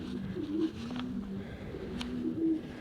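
Soft, repeated cooing of breeding racing pigeons, low throaty calls rising and falling a few times, close with faint background noise.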